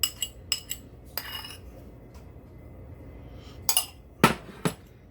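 Beaten eggs mixed into flour with a metal utensil, heard as a handful of sharp clinks and taps against a bowl in short clusters, separated by quiet pauses.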